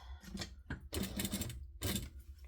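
Sewing machine running in short bursts of stitching and back stitching, quick mechanical needle chatter separated by brief pauses, close and fairly quiet.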